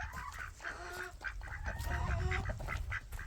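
Several ducks quack and honk close by in a quick, overlapping chorus as they are herded toward a pond at a small woodland homestead, with some rustling underneath.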